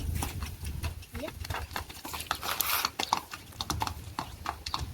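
A mare being ridden and urged to jump clip-clops on the ground in quick, repeated hoof strikes. The strikes come close and fairly faint beneath ongoing talk from people nearby.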